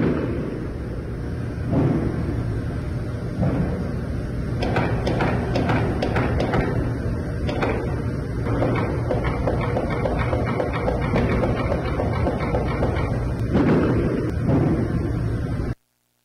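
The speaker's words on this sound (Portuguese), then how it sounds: "Vamos ouvir as rajadas dos disparos" Rapid bursts of distant gunfire crackle repeatedly over a constant noisy background, with several sharper cracks clustered in the middle and near the end.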